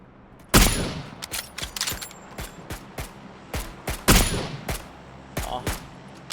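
Rapid gunfire in PUBG Battlegrounds, a string of sharp shots with one loud burst near the start and another midway, separated by quicker, fainter pops, heard up close.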